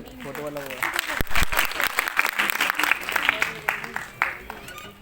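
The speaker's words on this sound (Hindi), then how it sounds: "सभी बच्चे एक दूसरे के लिए तालियां बजाएंगे जोर से" Children applaud one another at an award ceremony closing a seven-day NSS camp, loud scattered clapping mixed with voices and chatter throughout.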